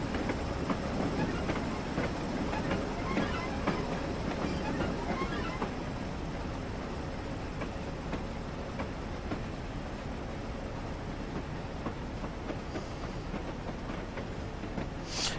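A Class 03 diesel shunter pulls a barrier wagon and old coaches at Doncaster in Train Simulator 2016. A steady engine drone and rumble of rolling stock carry on throughout, with faint rhythmic wheel clicks and a brief high squeal near the end.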